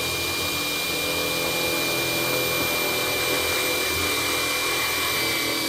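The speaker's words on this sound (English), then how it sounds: "I'm going to take my quarter inch drill bit, and that's going to center up on those holes I already have in the angle." A power drill with a quarter-inch bit bores into steel angle, its motor whining at a steady, loud, unbroken pitch for the whole stretch, close by and without speech.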